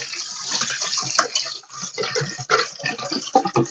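Water runs from a tap into a filling bathtub, a steady broadband rush with uneven gurgling and splashing that continues throughout at close range.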